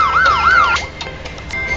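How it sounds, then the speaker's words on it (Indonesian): Police siren in a Zepeto roleplay game, a loud electronic wailing tone rising and falling twice over about a second, followed by short beeps and a brief steady tone. "Kemudian ini ada sirine."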